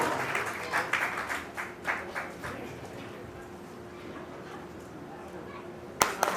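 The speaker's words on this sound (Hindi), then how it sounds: "तालियों से स्वागत करें अतिथियों का।" Scattered applause greets guests at the Saroj Seva Sansthan eighth anniversary function, with a few distinct claps at first that thin out into a soft, low murmur of room noise.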